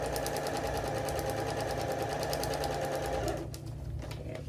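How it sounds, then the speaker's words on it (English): A sewing machine runs in a fast, even, rhythmic whir, sewing quilt fabric straight along a marked line, loud and close, then slows and stops near the end. "I'm coming across to sew directly on that line"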